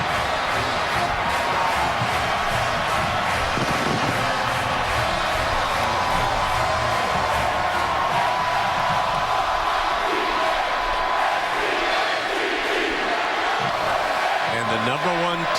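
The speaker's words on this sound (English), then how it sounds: "The arrival of the Florida State Seminoles before a sellout crowd in Tallahassee." A sellout stadium crowd in Tallahassee roars steadily as Florida State arrives for a college football game against Oklahoma, a dense, sustained wall of cheering that carries throughout with no spoken voices.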